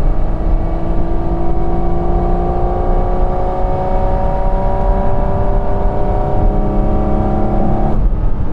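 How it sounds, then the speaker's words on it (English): A Porsche 911 GT3 or GT4 RS engine drones steadily at low revs in seventh gear, with rising harmonic tones as it pulls under load, continuous and close, ending with a sudden change near the end. "play with the different sounds this engine makes, depending on where you are in the rev range"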